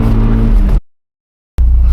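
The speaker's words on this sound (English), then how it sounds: "We're in an MX-5" Steady engine drone of a Mazda MX-5 sports car while driving, a loud low hum that drops out completely for a moment before resuming just as strong.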